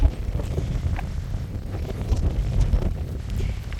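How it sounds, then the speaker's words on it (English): Wind gusts buffet an outdoor microphone in a steady low roar with rustling swells, no voices, on an outing with dogs near water. "sorry about the wind"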